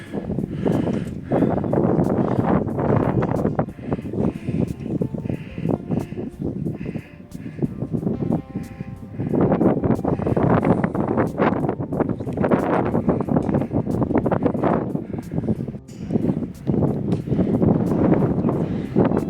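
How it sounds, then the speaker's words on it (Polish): Strong wind buffets the microphone at the top of an observation tower on a mountain summit, a loud continuous roar with gusty surges that eases briefly midway before returning. "Trochę tu wieje na szczycie tej wieży."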